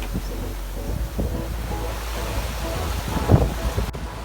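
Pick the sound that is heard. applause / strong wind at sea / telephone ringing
strong wind at sea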